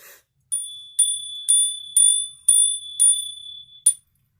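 A small bell is struck eight times in a steady rhythm about half a second apart, each clear metallic ring sounding up close and decaying quickly before the next strike, with no voices.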